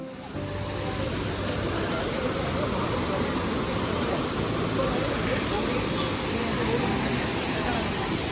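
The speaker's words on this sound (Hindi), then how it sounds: "ये देख रहे हैं, ये पहला वाटरफॉल है," Steady broadband rush of the Neer waterfall near Rishikesh, loud and continuous throughout with no pauses, like close water spilling into a pool.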